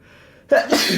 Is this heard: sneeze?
yes